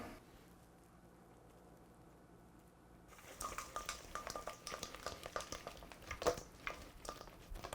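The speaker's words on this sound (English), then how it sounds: "Throw some wings in a bowl. Get some sauce on the wings." Chicken wings tossed with a thick pineapple caramel sauce in a bowl give close, wet stirring and sloshing with scattered clinks against the bowl, quiet at first and then a busy, continuous run of sticky tossing with no talking.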